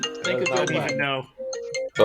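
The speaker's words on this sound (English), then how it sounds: "Somebody's phone is ringing." A mobile phone ringtone plays in an office during a Christmas party, a steady electronic tone sounding clearly under and between people talking.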